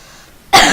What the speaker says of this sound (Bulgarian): и малко на този клип ще кашлям, защото съм болна